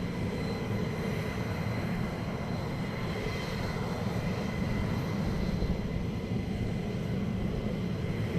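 An F-15 jet taxis at RAF Lakenheath, heard as a steady, broad engine roar with a faint high whine, constant and moderately distant, with no one talking.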